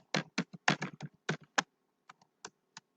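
Java code typed on a computer keyboard: a quick burst of close key clicks, then a few slower, spaced taps.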